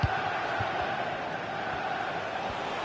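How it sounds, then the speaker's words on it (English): Football crowd at a Liverpool versus Manchester United match, a steady distant roar filling the stadium with a few low thumps, no clear individual voices. "The crowd certainly think so. Just listen to that noise."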